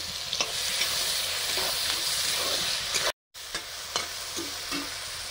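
Potatoes fry with spices, carrot, garlic paste and ginger paste for a cabbage curry, giving a steady, close sizzle and hiss broken by soft scrapes of stirring.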